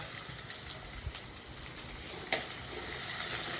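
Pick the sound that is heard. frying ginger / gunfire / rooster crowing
frying ginger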